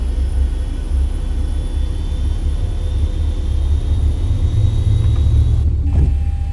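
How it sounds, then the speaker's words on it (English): A Boeing 737-800 jet engine in X-Plane 11 spins up during start, giving a steady, loud low rumble with a faint rising whine that ends with a brief shift near the close. "If you look out, you'll see the engine start spinning around."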